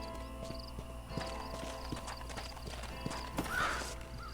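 Horse hooves clip-clopping in the game Red Dead Redemption near Fort Mercer, an unhurried walking rhythm under game ambience with a brief whinny near the end, no talk.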